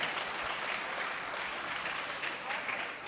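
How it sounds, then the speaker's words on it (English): Steady applause from a temple Sunday feast audience thanking the cooks, a continuous dense patter of many hands throughout with a faint voice underneath. "giving a big round of applause for cooking today's Sunday Feast"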